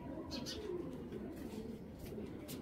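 A Belgian-breed racing pigeon with no tail coos softly in low, rolling murmurs, close but faint, with no talk over it.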